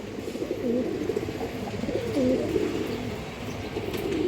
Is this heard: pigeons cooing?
yes